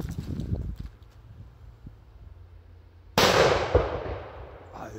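A flash banger firecracker goes off with one sudden, very loud blast, then a roaring decay, after a stretch of quiet low rumbling and muffled handling noises.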